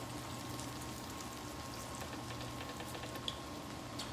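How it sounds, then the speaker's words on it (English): Food low-fries in hot oil at around 325 to 375 degrees, giving a steady, moderate sizzle and bubbling hiss throughout with no talking. "when you do a low fry like this, you still need enough of that heat to be able to get the crispy texture"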